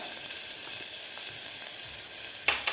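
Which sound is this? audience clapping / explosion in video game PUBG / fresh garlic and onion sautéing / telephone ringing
fresh garlic and onion sautéing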